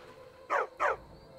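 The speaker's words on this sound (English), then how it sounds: "A dog!" Dog in the video game Skyrim giving two quick, mid-loud barks in close succession over a quiet game background.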